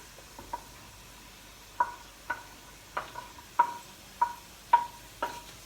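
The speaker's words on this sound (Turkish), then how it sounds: "Ben şuradan soğan ve sarımsakları atacağım." Onions and garlic stirred in a pan with cooked potatoes, a soft background sizzle broken by about ten sharp metallic clinks of a utensil against the pan in an uneven rhythm, close and without talk.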